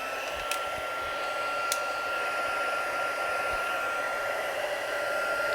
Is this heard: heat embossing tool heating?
yes